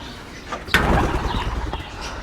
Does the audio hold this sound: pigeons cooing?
yes